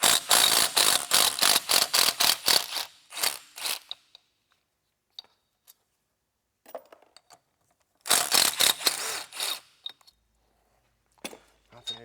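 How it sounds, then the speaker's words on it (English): Mechanical rattling and metallic clinks come from a cylinder being pulled off a Honda engine with carbon on the piston. Bursts of loud handling noise stop and start, separated by quiet gaps. "Pop off this cylinder."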